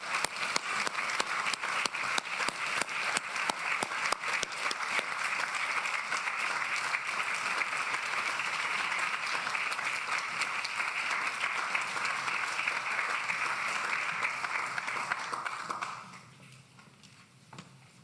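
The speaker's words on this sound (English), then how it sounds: "would you join me in a round of applause for these sisters?" A hall audience gives a long round of applause for Catholic sisters in Rome, with dense clapping that holds steady for about sixteen seconds and then stops abruptly, leaving quiet room tone.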